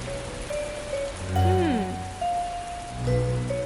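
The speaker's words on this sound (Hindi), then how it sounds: "बारिश हो रही है" Steady rain patters down continuously, with a soft tinkling texture and some tonal background sounds running through it.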